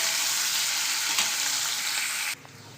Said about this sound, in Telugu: ఈ ఉల్లిపాయ వేగుతున్నప్పుడు